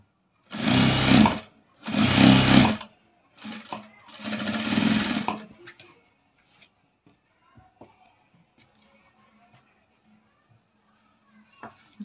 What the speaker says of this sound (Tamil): தையல் போட்டு லைனிங்கும் மேல் துணியும் அப்படியே ரெண்டு துணியும் ஒன்றா தையல் போட்டுக்கலாங்க.